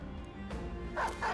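A dog barks in a video game, giving a few close, loud yips and barks over a dense background of game sound.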